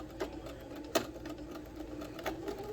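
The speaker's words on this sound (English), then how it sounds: "So I'm going to go ahead and I'm going to do a back stitch" A sewing machine runs a back stitch on a fabric mask, a steady close mechanical whir punctuated by a few sharper clacks, alone without talking.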